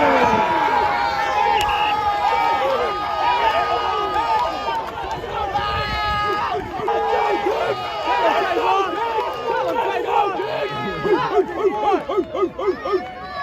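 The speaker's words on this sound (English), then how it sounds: "Do y'all hear the crowd?" Crowd noise at a football training camp, a dense, continuous babble of many voices with shouting and cheering, players yelling from the sidelines, loud and close throughout with sharper bursts near the end.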